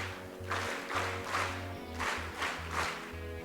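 Schoolchildren at a provincial school sports meet clap in a rhythmic, unison pattern, with bursts of group claps repeating steadily over a low hum of amplified sound.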